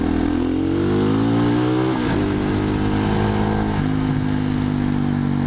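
A 2007 Husqvarna SM610 motorcycle engine revs loudly and continuously close by, its pitch climbing steadily, dropping sharply around the two-second mark, then holding and shifting again as it is ridden.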